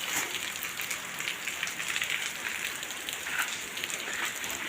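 Steady rain hissing down on a surface, a dense, even patter with no pauses, fairly close and continuous throughout.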